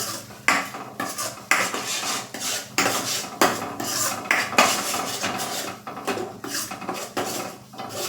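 A spoon stirs and mixes spiced gravy in a pot for Vadodara-style sev usal, with turmeric, coriander-cumin powder and salt; near, repeated scraping and clinking against the metal pot in an uneven rhythm, with no talking.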